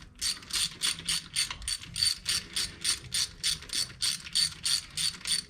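A socket ratchet turns carburetor bolts on a 1970 Chevy C10 engine, giving steady, evenly paced bursts of close, crisp clicking strokes for several seconds.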